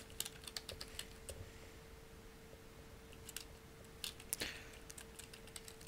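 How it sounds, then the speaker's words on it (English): Fingers tap on a computer keyboard in quick, irregular clusters of faint clicks over a steady low hum, with pauses between bursts and no talk. "Then we can type"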